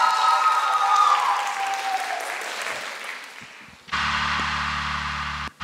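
Audience applause at a school dance battle greets a performance, loud and sustained clapping that slowly fades before music with a steady beat cuts in near the end.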